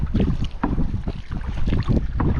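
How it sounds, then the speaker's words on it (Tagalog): Water sloshes and splashes in rhythmic pulses around a small wooden boat being paddled, with gusty wind buffeting close by. "Bangka po ang aming sinasakyan."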